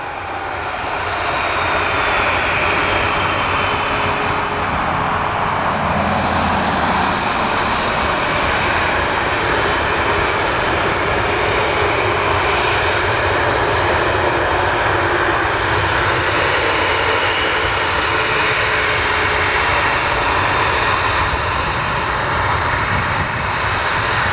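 Sustained loud roar of Boeing 737 Max jet engines at an airport, steady and nearby, holding for a long stretch without voices.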